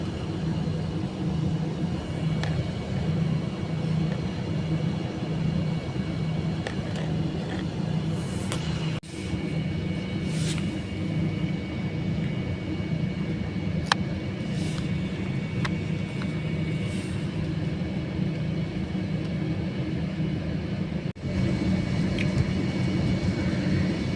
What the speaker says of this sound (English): Taxiing to the runway